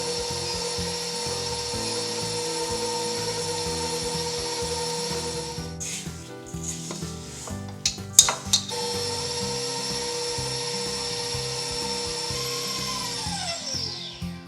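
A stand mixer fitted with a paddle attachment creams butter and sugar in a bowl, giving a steady, loud motor hum with a brief clatter of scraping midway before the whirring continues.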